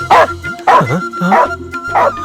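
A dog barks four times in quick succession, loud and close, each bark short with a slight whine to it, in an even rhythm.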